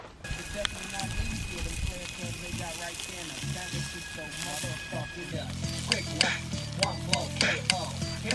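Pork chops sizzle on foil laid over a grate above a campfire, a steady hissing fry with crackles and clinks, while people talk nearby throughout.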